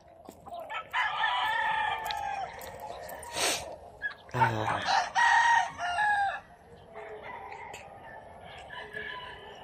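A rooster crows loudly several times at a gamefarm in Danao City, with other chickens clucking nearby and some faint background noise.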